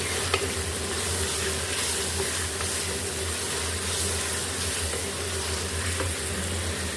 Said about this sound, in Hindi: दो से 3 मिनट इसको मसालों से अच्छे से कीमे को भून लेंगे।